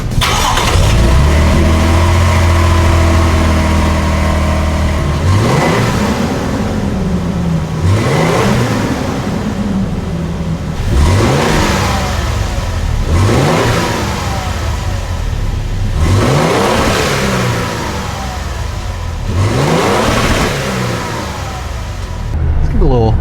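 A stock V6 car engine starts, then is revved repeatedly, about six rising-and-falling revs at regular intervals, loud and close, with talking mixed in.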